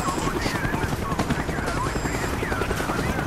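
Helicopter in Call of Duty: Black Ops, rotor thrum droning steadily through the whole stretch amid battlefield noise with scattered distant gunfire, a voice briefly audible.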